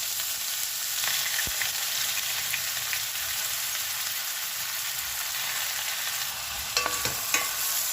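Four medium onions, finely chopped, frying in hot oil in a pan for egg bhurji, a steady close sizzle with a few scraping stirs of a spoon toward the end.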